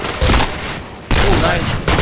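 Gunfire in the Point Blank shooter game, loud dense bursts filling the clip in two main volleys with a short lull between, with no clear talk over it.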